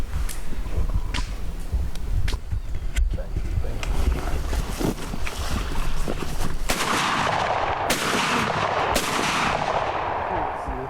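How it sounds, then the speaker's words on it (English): Several loud shotgun blasts at ducks, fired at irregular intervals outdoors over muddy water, cracking sharply over wind and water noise, with people talking throughout. "You keep on missing, I have to take that gun from your Ty."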